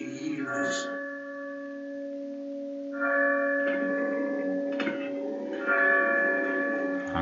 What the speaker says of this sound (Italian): La campana.